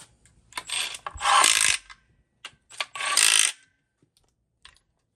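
A socket wrench ratchets on the engine bolts of a Ford camper van, clicking in two close bursts with a few softer taps between, near and clear with no talking.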